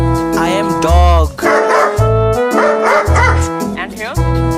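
A dog barks and yips in a loud, repeated run of short, whiny bursts, with brief pauses between them. A voice also speaks, and the bark works as a comic sound effect.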